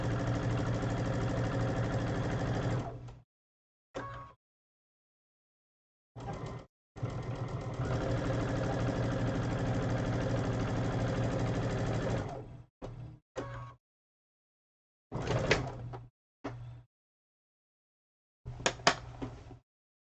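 A sewing machine stitches quilt blocks in bursts of steady mechanical whirring and chattering, with a long run of several seconds and shorter stop-start runs separated by silence.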